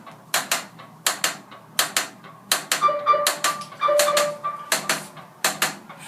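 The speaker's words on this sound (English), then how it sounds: "after it does its little self-test, you're going to hear a slight clicking noise" A Whirlpool Cabrio washing machine clicks repeatedly after its self-test, sharp mechanical clicks arriving in an uneven rhythm, close and fairly loud, joined by brief electronic tones as error codes E3 and F5 appear.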